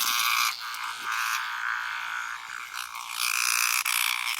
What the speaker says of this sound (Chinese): 知了，你太吵了。